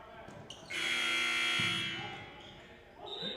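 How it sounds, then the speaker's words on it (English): An errant buzzer sounds at a men's college basketball game between St. Francis (Ill.) and Arizona Christian, one loud, sustained electronic tone of about a second that fades out, with gym noise and talk around it. "Errant buzzer there prior to the inbounds play"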